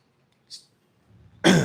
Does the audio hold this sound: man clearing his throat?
yes